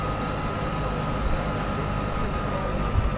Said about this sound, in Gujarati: હવે આપણે અહીંના ટ્રામ સ્ટેશન ઉપર પહોંચી ગયા.